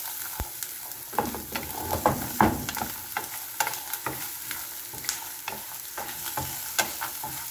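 Beansprouts and pork stir-fry in a pan, a bright sizzle punctuated by irregular scraping and knocking of a spatula tossing the ingredients, close and moderately loud with no talking.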